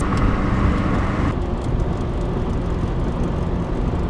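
Interior road noise from a Honda Civic Si cruising steadily: a constant loud low rumble of engine and tires with wind hiss, continuous and even, with no talking.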